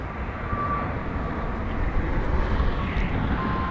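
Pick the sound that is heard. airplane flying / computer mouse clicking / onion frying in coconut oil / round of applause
airplane flying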